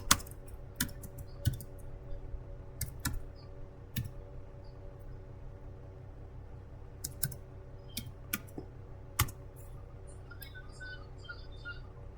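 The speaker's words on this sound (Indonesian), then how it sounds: "Ini kita harus ketikkan ping dulu." Someone types a ping command on a computer keyboard, a string of quiet, close key clicks spread unevenly over a steady low hum, with no talking.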